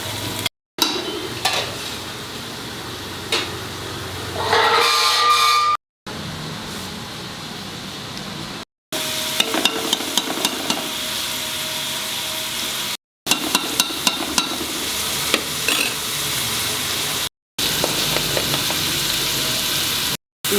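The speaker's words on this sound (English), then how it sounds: "These are 2 finely chopped onions. And fry till it becomes translucent and slightly brown." Two finely chopped onions fry in a pan, giving a steady broadband sizzle with occasional stirring scrapes. The clip is broken by several short silent cuts.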